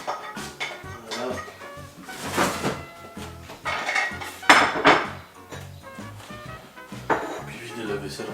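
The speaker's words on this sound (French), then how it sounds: "Puis vider la vaisselle, remplir la vaisselle." Dishes, glasses and cutlery clatter in repeated bursts while a household dishwasher is emptied and refilled in a home kitchen, the clinks and knocks close and irregular over a steady room background.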